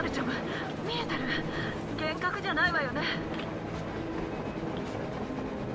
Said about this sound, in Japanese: 電車が電車機関車蒸気機関車地上列車が走ってる